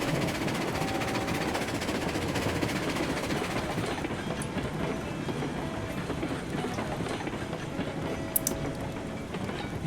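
A train in the game Railroads Online runs at mainline speed, giving a steady, continuous rolling rumble with faint clickety-clack of wheels on rails and no talk over it.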